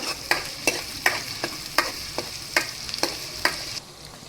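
Sliced medium onions frying for chhole in a pan, a bright steady sizzle punctuated by about ten evenly spaced scraping strokes of a spoon, close and clear with no talk.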